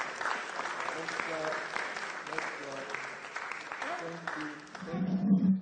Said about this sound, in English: All right, let's clap to that.